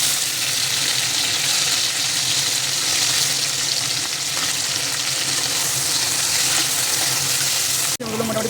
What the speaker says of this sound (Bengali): এখন ক্যাপসিকামগুলো তেলের মধ্যে দিয়ে দেবো দিয়ে হালকা করে ভেজে নেবো